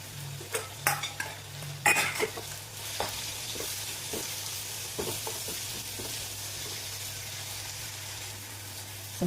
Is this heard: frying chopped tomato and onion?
yes